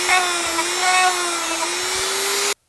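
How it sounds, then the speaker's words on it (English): A die grinder reams out wood to seat a part for a bioluminescent fungus lamp, giving a steady, high-pitched whine that holds close and loud for about two and a half seconds, then cuts off abruptly. "the die grinder to rip out that edge so I can get this down in further"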